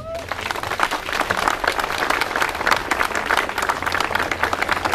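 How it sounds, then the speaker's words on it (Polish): Enthusiastic outdoor crowd applause at a bench unveiling in Ustka, Poland, dense and continuous, with many hands clapping at once, loud and close, sustained throughout. "Wielkie brawa!"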